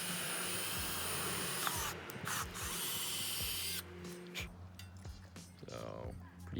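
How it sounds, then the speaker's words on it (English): A power drill fitted with a 10 mm (3/8 inch) bit bores holes, a steady whining drone that runs for a few seconds, then cuts out and gives way to clatter and handling noise, with someone speaking faintly at times. "I'm just going to use the drill"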